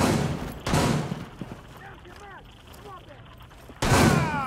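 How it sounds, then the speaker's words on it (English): A video game turret opens fire in two loud, dense bursts of rapid gunfire at the start and end, separated by a quieter stretch of chirping, mechanical game noises. "He got a turret right at the stairs."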